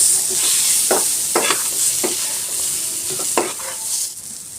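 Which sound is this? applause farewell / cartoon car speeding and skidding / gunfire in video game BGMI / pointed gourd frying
pointed gourd frying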